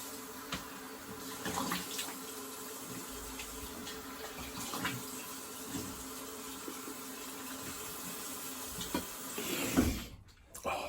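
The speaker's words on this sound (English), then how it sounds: "Just gonna do a quick rinse." Tap water runs steadily into a sink for a quick rinse, a constant close splashing with a brief clatter near the end.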